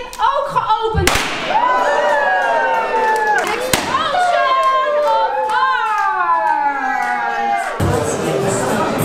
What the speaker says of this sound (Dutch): Om een ballonnetje te pakken, hem te blazen en hem kapot te laten knallen, midden in je gezicht